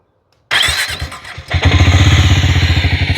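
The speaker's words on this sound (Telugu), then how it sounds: "హార్లే బైక్ తీసుకొచ్చి ఎగ్జాస్ట్ నోట్ వినిపించకపోతే నాకు పాపం తగులుతుంది, అందుకే వినిపిస్తున్నాను." Harley-Davidson X440 motorcycle engine starting after a moment of silence, cranking and catching, then revving into a loud, close, thumping single-cylinder exhaust beat that settles into a steady idle rhythm.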